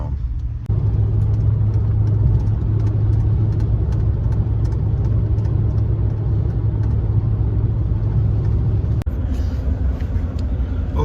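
A car drives on the open road with a steady, loud engine and tyre rumble that continues unbroken throughout, with a brief dip near the end.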